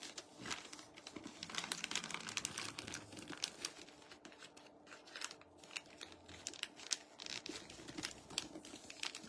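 Sheets of gift wrapping paper, large pieces cut in half for smaller boxes, rustle and crinkle nearby as they are handled, with a busy stream of crisp papery crackles and scrapes and no talking.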